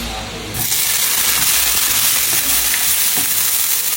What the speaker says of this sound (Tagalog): bali ginisa ko lang yung sibuyas sa kamatis